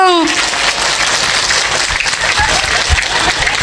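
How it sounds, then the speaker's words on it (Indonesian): A loud burst of audience applause and clapping fills a religious study gathering, with a voice briefly heard at the start before the sustained clapping takes over. "Tepuk tangan dulu dong"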